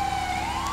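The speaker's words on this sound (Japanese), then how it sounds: "OK、 パトカーも追跡してくれてる。" A police car siren wails steadily and loudly, close by, during a GTA5 car chase, with the rumble of a vehicle engine underneath.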